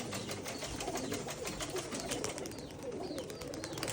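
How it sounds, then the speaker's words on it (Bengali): Pigeons cooing in a loft of about eighty birds, a soft, continuous murmur of coos and rustling at moderate distance, faint and without speech. "এই 80টা কবুতরের মধ্যে ধরা কবুতর কয়টা আছে মামা?"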